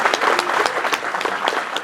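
An audience at a textile industry association event gives a steady burst of clapping throughout, dense and lively with sharp individual claps standing out, and no talk.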